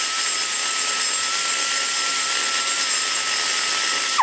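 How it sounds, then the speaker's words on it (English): A carbide cutting burr grinds on the top of an aluminum intake guide for a big-block Chevy, a loud continuous high whine with a steady pitch that runs throughout, with no talking. "This time it's a carbide cutting burr, and I'm going to let it dance right on the top of that guide."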